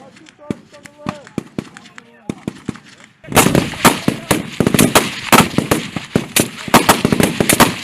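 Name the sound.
gunfire during military shooting drill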